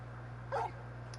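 A large dog in the video game Final Fantasy XVI gives a single short, soft whimper over a steady low electronic hum.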